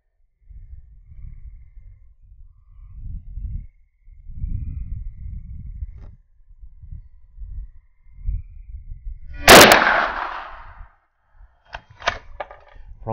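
A single sharp, loud shot from a Savage 23C sporter rifle chambered in 32-20 Winchester, cracking outdoors amid low rustling and handling noise, followed by a few faint clicks.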